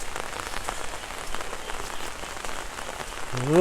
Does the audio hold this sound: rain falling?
yes